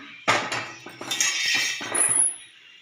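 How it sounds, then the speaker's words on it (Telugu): A metal cooking pan set down on a gas stove, with a loud clanking knock followed by a few rattling scrapes and clinks, ending in a faint high ring. "స్టవ్ ఆన్ చేసుకొని పెన్నం పెట్టుకొని"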